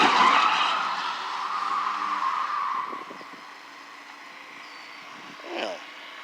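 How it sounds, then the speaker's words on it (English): A car skids with a loud, sustained tire squeal that fades over about three seconds, followed by a few faint knocks and a brief later screech. "Sorry, car accident."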